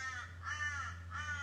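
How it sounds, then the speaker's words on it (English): A crow caws twice outdoors beside a backyard pool, each call a harsh, fairly clear burst over a steady low hum, with no talking. "You can hear a crow crowing."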